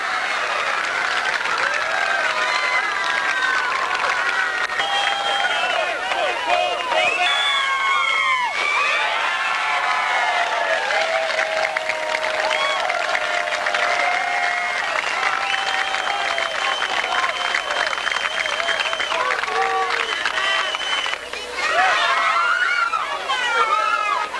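At a 1998 Philippine slow-pitch softball game, a crowd applauds and cheers loudly and continuously, with scattered shouts and whoops rising above the clapping.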